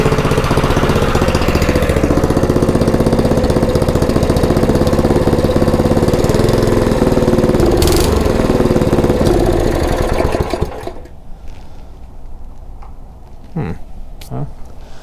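A Honda GX160 small engine idles with a steady, throbbing low putter for about ten seconds, then cuts out, leaving faint knocks and handling noises afterward.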